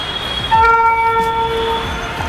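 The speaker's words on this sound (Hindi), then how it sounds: "सामने यहाँ ऊपर से ट्रेन्स जाती हैं।" A train passes on an overhead track beside a cemetery, sounding a loud, close horn for about a second while a faint rumble continues underneath.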